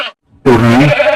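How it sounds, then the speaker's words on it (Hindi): A goat bleats once, loud and close, a wavering harmonic cry of about three quarters of a second that follows a brief faint bleat and a moment of silence. "अरे यह तो बकरी के चिल्लाने की आवाज है"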